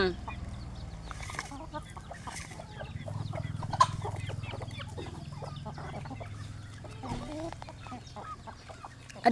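Chickens cluck softly and intermittently at a distance over a low background rumble, with scattered faint pecking and rustling sounds.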